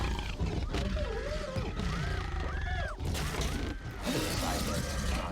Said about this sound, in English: And the T-Rex roar is amazing. It's a part of an elephant and a lion.